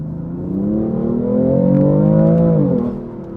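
A BMW car's turbo engine revs in one long, rising and falling drone, close and loud with no voices.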